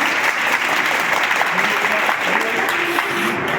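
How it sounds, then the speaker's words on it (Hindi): Schoolgirls at a girls' inter college clap together in a dense, continuous burst of applause, loud and close, with some voices mixed in. "एक बार ताली बजाओ,"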